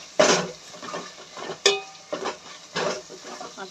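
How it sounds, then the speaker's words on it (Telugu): Gongura chicken with ginger and garlic being stirred in a pan, a spoon scraping and clanking against the metal in a few separate strokes over a soft background sizzle. "గోంగూర చికెన్ కదా, ఇప్పుడు కొంచెం బాగా కలిపెడదాం."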